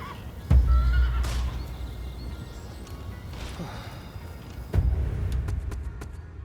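A horse whinnies in Rise of the Ronin, with a heavy thud of hooves at the start, then rustling movement, and a second loud impact near the end; no one speaks.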